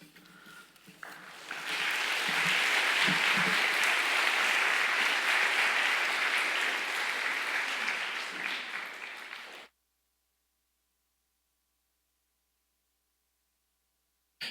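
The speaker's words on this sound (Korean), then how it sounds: "우리 다시 한번 감사의 박수 한번 드립시다" A large chapel audience at a Handong University Wednesday service applauds the speaker, starting with scattered claps that swell into sustained, dense applause for about seven seconds before stopping abruptly into silence.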